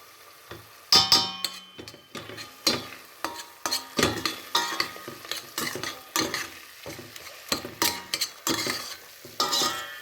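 A spoon stirs fish kofta made from whiting in a frying tomato sauce, with repeated scraping strokes and metallic clinks against the pot over a steady low sizzle, close and uneven in rhythm.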